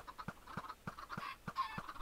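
A large flock of roughly a hundred Minecraft chickens clucks steadily, with repeated short, rhythmic clucks and soft squawks layered together, fairly quiet and with no talking.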